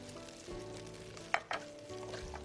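Green beans going into moderately hot oil in a wok, a steady close sizzle of frying with two sharp spattering bursts partway through, no voices.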